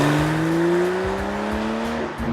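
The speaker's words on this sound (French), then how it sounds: "on entend bien le son du moteur" A Porsche 911 Carrera T with a 3-litre twin-turbo flat-six engine drones steadily under load, a close, sustained engine tone that rises slightly in pitch before easing off at the end.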